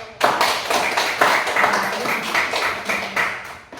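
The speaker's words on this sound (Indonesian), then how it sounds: "kasih aplaus untuk" A classroom group bursts into applause, a close, lively patter of many hands clapping for a few seconds without a break.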